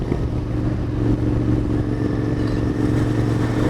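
A Royal Enfield Continental GT 650 motorcycle on a bumpy British back lane, its parallel-twin engine droning steadily at mid revs with a throbbing low hum and faint clatter, close and continuous without any voices.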